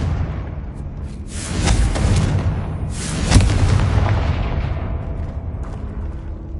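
A Confringo blasting-spell explosion in Hogwarts Legacy, heard as booming, rumbling bursts with two stronger blasts a second or so apart, each fading into a long, heavy low rumble.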